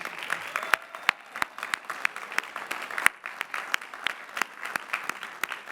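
Applause at the 2017 Lehigh University commencement for Bachelor of Science degree recipients, a steady crowd clapping with sharp individual claps standing out, moderately distant and continuous throughout.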